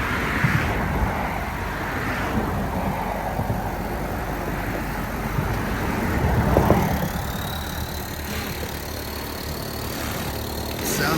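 A car engine runs steadily just after starting, a continuous low rumble close by with broadband road-like noise and a slight swell midway, with no clear talk over it.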